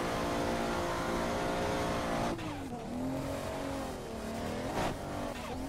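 A drift car on a Brazilian championship drift track revs loudly and accelerates with a sustained engine whine, briefly dropping off before the pitch climbs again alongside some tire squeal, with no talking.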